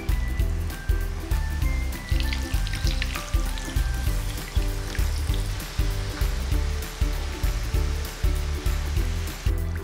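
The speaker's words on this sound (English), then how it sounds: "slide these gujiyas into my preheated oil and deep fry them until they're" Hot oil bubbles and sizzles steadily with a pulsing rhythm as gujiyas deep fry on low to medium heat, a close, continuous frying sound with no talking.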